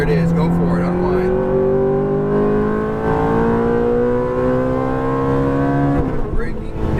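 Ferrari F430 engine pulling hard under throttle through a corner, a loud sustained rising tone with steady harmonics that climbs for several seconds, then shifts near the end; a person talks over it.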